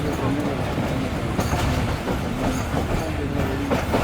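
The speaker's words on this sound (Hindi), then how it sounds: "ट्रेन हमारी 9:15 पर अप्रोच बना रही है जी रोड़ी जंक्शन रेलवे स्टेशन पर" The Jaffer Express rolls into Rohri Junction, its carriages rumbling and clattering steadily over the rails, heard from inside the train under a continuous background din.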